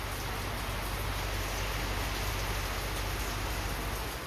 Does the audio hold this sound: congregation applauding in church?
no